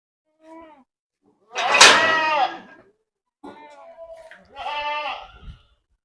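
Goats on a commercial goat farm bleat close by, a few separate calls of varying length with short quiet gaps between them.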